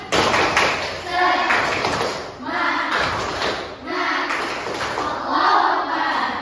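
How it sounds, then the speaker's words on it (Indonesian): Students in a classroom perform a rhythmic spirit clap in repeated bursts of group clapping, mixed with chanting voices. "Kita tes dulu semangatnya. Ya, tepuk semangat."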